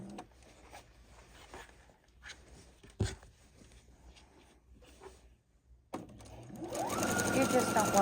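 A sewing machine stitches quilt seams, starting up near the end and running loud and steady with a rising motor whir, after several seconds of soft handling and rustling.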